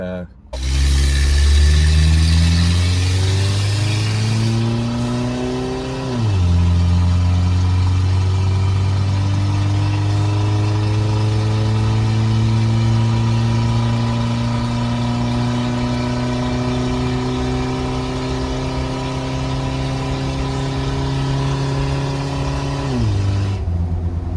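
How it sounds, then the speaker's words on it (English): Two drag-racing vehicles, an '82 Toyota and a Dodge Raider, rev hard and loud, with engine pitch climbing through gears, dropping briefly at a shift and then rising again in a long sustained pull before cutting off. "having a drag race between the 82 Toyota and the Dodge Raider"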